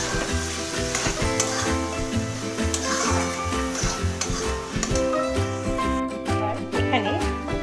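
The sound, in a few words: stirring bottle gourd and prawns with sugar in a pan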